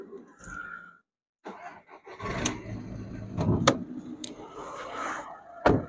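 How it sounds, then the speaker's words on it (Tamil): After a brief silence, a Skoda Rapid car engine cranks and catches, then settles into a rough, rumbling run broken by a few sharp clicks, heard moderately close. "இன்ஜினே நான் உங்களுக்கு ஸ்டார்ட் பண்ணி காட்டுறேன்."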